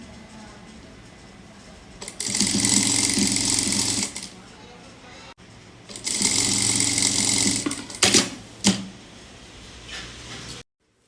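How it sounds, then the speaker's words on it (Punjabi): Invisible lace is stitched onto a kameez with a sewing machine in two sustained close, loud bursts, then a few short stuttering runs before the motor stops. A voice talks over the quieter stretches. "ਹੁਣ ਅਸੀਂ ਲੈਸ ਦੇ ਬਿਲਕੁਲ ਕਿਨਾਰੇ ਕਿਨਾਰੇ ਤੇ ਸਿਲਾਈ ਲਗਾਣੀ ਹੈ"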